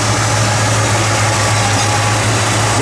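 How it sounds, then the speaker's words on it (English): A 1966 Ford Mustang coupe, a factory C-code car with a V8 now fitted with a 4-barrel carburetor, idles steadily and loudly up close with a constant low engine hum and no talk. "And this engine just runs beautifully."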